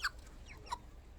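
Large 29-day-old broiler chickens on a poultry farm, weighing over two kilograms, give a couple of faint, brief clucking chirps over quiet barn background.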